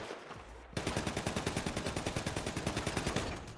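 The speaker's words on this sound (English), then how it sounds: "I feel like they're shooting back, though, brother." Sustained automatic gunfire in a GTA 5 roleplay shootout begins abruptly after a moment of quiet, with a rapid, steady, even burst of roughly two dozen shots that stays loud throughout.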